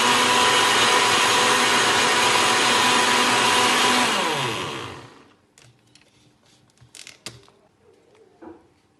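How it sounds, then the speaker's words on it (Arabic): An electric blender mixing crepe cake batter whirs loudly and steadily for several seconds, then winds down and stops, leaving faint scattered clinks and knocks. "حتى يطرب الخليط مزيان في الخلاط الكهربائي"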